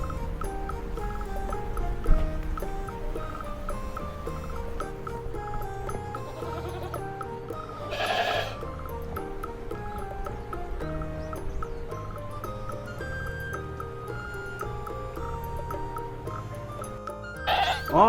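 Goats bleat repeatedly at a goat farm in Himi, Toyama, with several bleats rising over a steady outdoor background throughout, one call especially clear near the middle.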